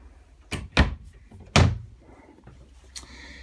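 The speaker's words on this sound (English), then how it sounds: "if I open up some of the pantry space, you notice you have a massive pantry" A pantry cabinet door opens in a 2019 Coachmen Chaparral 391QSMB fifth wheel RV, giving a few close knocks and thuds of latches and door panels, followed by a softer rattle.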